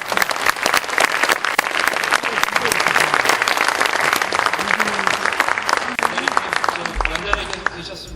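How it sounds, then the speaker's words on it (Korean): A room of party lawmakers at a general assembly breaks into loud, sustained applause, dense clapping close by that runs throughout, with voices mixed in beneath it. "그런 격려로서 박수를 한번 보내주십니다."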